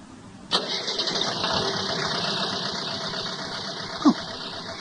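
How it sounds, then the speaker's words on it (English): Car motor cranking to a start with a sharp onset, then settling into a steady mid-pitched idle hum, with a brief knock near the end. "At that moment, Marcel hears a motor start."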